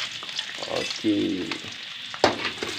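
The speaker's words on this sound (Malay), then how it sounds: "kita goreng. Bawangnya dulu kita masukkan, bawang merah dan bawang putih ya" Shallots and garlic hit hot oil in a pan, giving a steady sizzle with stirring scrapes and a clatter of utensils, fairly close, while a voice speaks briefly.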